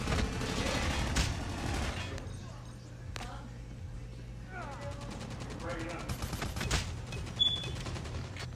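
Shooting in Call of Duty Mobile: bursts of gunfire loud at the start, then scattered shots and clicks of mechanical game effects later, with a player talking over parts of it.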